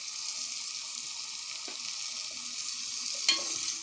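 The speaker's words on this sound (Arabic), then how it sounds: "اديها تقلبتين كده، وهحط عليها معلقه توم صغيره وملح وفلفل" Garlic with salt and pepper fries in a pan alongside browning onion, a steady close sizzle broken by a few soft scrapes and one sharper clack of the stirring spoon near the end.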